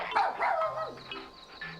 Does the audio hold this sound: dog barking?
yes